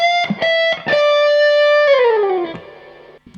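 Distorted electric guitar plays an opening phrase slowly, with picked sustained notes, a long held tone and a downward slide, clear and close.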